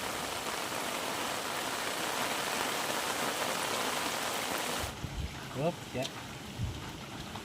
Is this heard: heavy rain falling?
yes